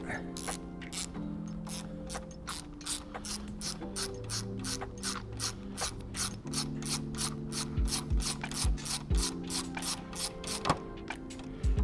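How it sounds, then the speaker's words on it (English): Rapid ratchet clicking from a 12mm socket wrench loosening a brake line bolt on a Suzuki GSXR motorcycle, a steady close run of sharp pawl clicks over about twelve seconds with a few heavier knocks near the end. "Now we're going to remove this brake line bolt. Takes a 12mm socket."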